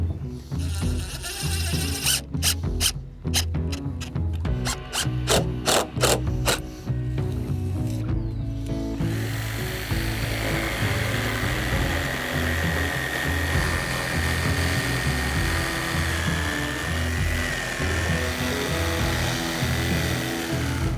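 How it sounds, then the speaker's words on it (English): A power driver sinks screws into cedar deck boards outdoors, with a run of short, rapid mechanical bursts and then a long continuous whirring drone. The sound is close and no one speaks. "Now we're ready to screw it in."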